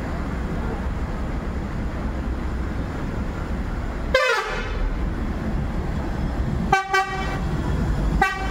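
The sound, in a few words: bus horn honking at bus terminal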